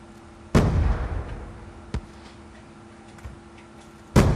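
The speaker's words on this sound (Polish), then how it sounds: "Słychać strzały." Gunshots in Call of Duty: Black Ops 2 multiplayer, two loud sharp bangs a few seconds apart with a smaller crack between them, over a low steady hum.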